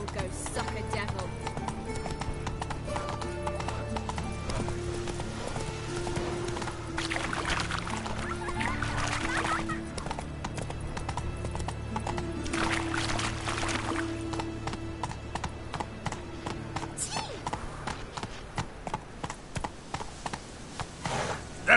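The horse Roach gallops in The Witcher 3, a rhythmic run of hoof clip-clops over game music and ambience, moderately loud, with the beats growing sharper and more distinct toward the end.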